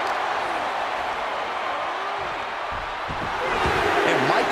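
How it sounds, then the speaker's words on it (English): Arena crowd noise in the WWE 2K24 wrestling video game during a Shawn Michaels versus Seth Rollins match, a steady broad roar of cheering that swells slightly toward the end, with a commentator talking over it. "And Michaels is channeling the energy of this crowd."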